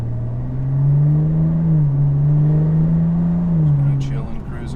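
BMW 335i F30 inline-six with Bootmod3 stage 2 tune cruising around 2,800 rpm: a steady low droning hum from inside the car with slight rises and dips in pitch, while people talk over it.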